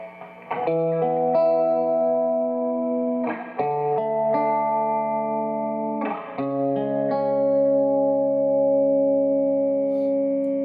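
Electric guitar chords through an amp at moderate volume, strummed a few seconds apart and left to ring with a slightly gritty edge.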